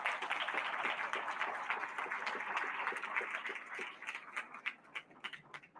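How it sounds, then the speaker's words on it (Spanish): Audience at a book presentation applauding an author, a full round of clapping that holds steady then thins out into scattered separate claps toward the end, moderately quiet and without talk. "Le damos un aplauso, por favor."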